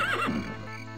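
A horse neighs in the video game The Elder Scrolls II: Daggerfall, one rising whinny that falls off over about a second, close and clear against a steady low game hum.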